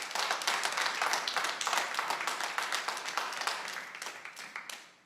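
Sustained audience applause fills a Planning and Zoning Commission meeting room: dense, steady clapping from many hands that thins and fades out near the end.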